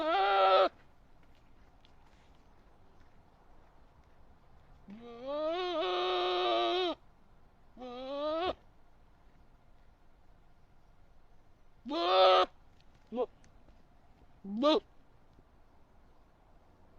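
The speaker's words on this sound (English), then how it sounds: "This random goat is just screaming." A goat screams in a series of loud, wavering bleats, about six separate cries of varying length spread over seventeen seconds with quiet gaps between them.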